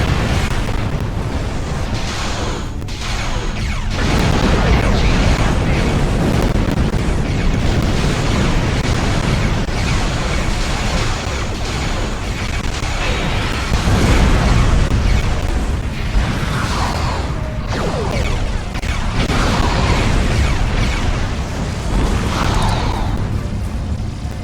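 Starship weapons fire and explosions in the space combat game Star Trek Online, a dense, continuous barrage of booming blasts and rumbling detonations that stays loud and full for the whole stretch, with no talk.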